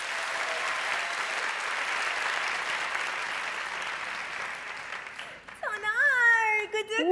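A studio audience claps loudly and steadily for performers Anıl, Aslı and Mahir. The applause fades near the end, and a high, excited voice breaks in over the last moments.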